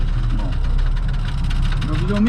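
Tractor engine running with a plough attached, a steady low rumble and idle throughout, with a rising whine near the end and people talking over it.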